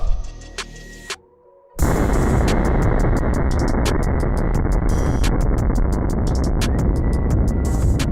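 A firecracker blasts between a pair of powerful magnets, a few sharp pops first, then a brief lull before a loud, sustained roaring burst of noise that fills the rest of the moment with crackling.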